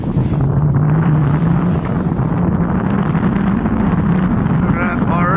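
Strong wind roars constantly across the microphone aboard a sailboat, with waves and water rushing beneath, loud and close throughout.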